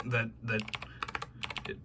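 Zeal Clickiez keyboard switches with a tactile mod being typed on, a quick run of crisp clacks and taps up close, a voice briefly heard at the start.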